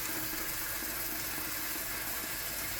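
Steady rush of tap water filling a bowl in a sink during maintenance of a DeLonghi ECAM 650.85.MS espresso machine, a continuous quiet hiss with no voices.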